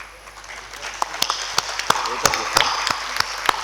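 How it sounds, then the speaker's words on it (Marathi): Audience members at a farmers' rally break into applause, scattered sharp claps building into a loose, moderately loud clatter, with voices murmuring underneath. "आम्ही सगळे तुमच्यासाठी टाळ्या वाजवतो"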